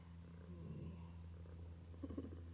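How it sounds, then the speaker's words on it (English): A pet cat purring softly and steadily up close, a low continuous rumble with gentle rhythmic pulses and no talking. "she's just purring away"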